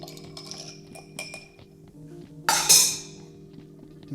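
A spoon stirs a Galliano and orange juice highball in a glass, making light clinks up close. One sharper, brighter clink of glass and ice stands out near the end.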